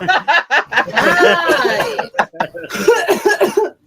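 A person coughs loudly and close to the microphone in several rough, rapid bursts. A brief spoken greeting and some throaty, chuckle-like sounds come between the coughs.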